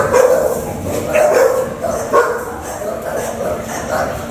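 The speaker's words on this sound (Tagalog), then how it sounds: "May mga aso." Several American Bully dogs barking and yipping close by at a kennel, overlapping in bursts with a whimper now and then and voices talking in the background.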